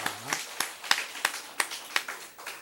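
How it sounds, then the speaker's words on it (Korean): A church congregation claps in unison, about eight sharp, evenly spaced claps in a steady rhythm, with a voice heard briefly at the start. "박수 치려면 한번 또 화끈하게 칩시다"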